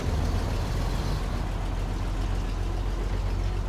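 A heavy truck engine drones loud and constant in the SnowRunner video game as the truck sits stuck in low range with all-wheel drive and diff lock engaged. It is fitted with a straight exhaust pipe, and no voices are heard.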